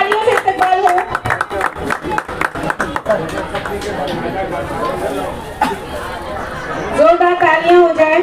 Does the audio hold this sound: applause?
yes